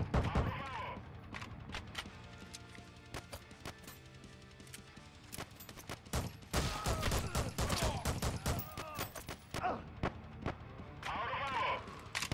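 Gunfire in the VR shooter Hard Bullet in a Kowloon setting, with sharp shots cracking in irregular bursts and rapid volleys, some close and loud, while a player talks between and over the shots.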